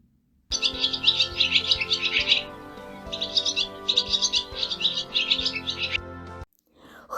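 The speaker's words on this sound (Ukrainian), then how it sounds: "Хто щебече так мелодійно? Вірно, це ластівка." A swallow chirps in quick, melodious trills, close and bright, repeated in several bursts over a steady musical background.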